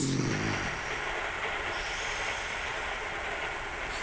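Steady rumble of a train running on rails, used as an audio-drama effect, with continuous broadband rolling noise and hiss throughout, loud and alone after a brief low tonal sound at the start.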